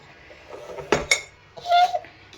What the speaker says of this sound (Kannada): ಇದನ್ನು ಹಾಕಿ ಈ ರೀತಿ ಈ ಉಪ್ಪು ಎಲ್ಲ ಒಂದಕ್ಕೊಂದು ಮಿಕ್ಸ್ ಆಗಬೇಕು